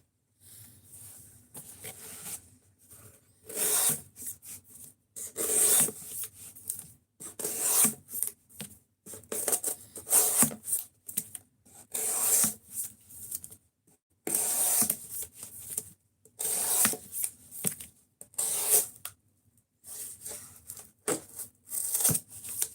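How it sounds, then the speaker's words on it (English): A knife blade sharpened on diamond plates, rhythmic bursts of raspy scraping strokes in repeated groups, close and moderately loud, with short pauses between sets. "But I sharpen with diamond plates on this guy right here."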